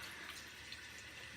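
Water splashed onto a face by hand before a water-only, no-soap shave, heard as a steady close wash of running, splashing water with no talking.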